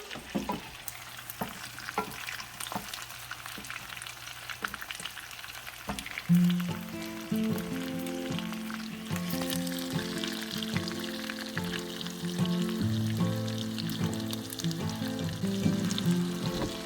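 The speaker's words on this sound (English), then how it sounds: "We'll let the salmon cook the rest of the way through." Salmon frying in a pan with Old Bay seasoning while being basted, giving a continuous close sizzle broken by regular scrapes and clinks, with tonal background music coming in partway through.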